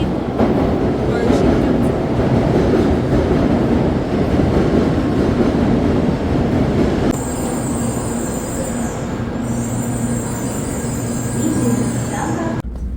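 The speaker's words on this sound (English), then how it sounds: "This is our train." Steady rumble of a Japanese train interior with continuous wheel and motor noise, a high whine joining partway through, loud and close throughout.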